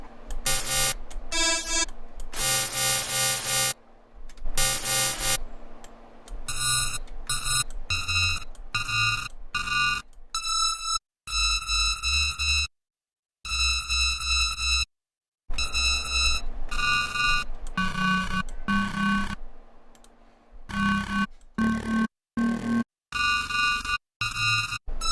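A cinematic synth patch in Serum, using FM from the sub oscillator, sounds bright, buzzy, beeping tones in choppy bursts broken by brief silences, fairly quiet and free of talk.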